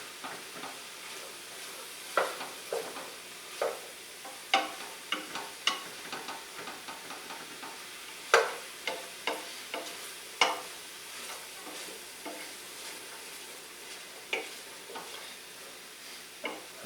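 Chopped vegetables sauté in a hot soup pot, a faint continuous sizzle under repeated scraping stirs of a spoon, irregular strokes every second or so, close and quiet with no talking.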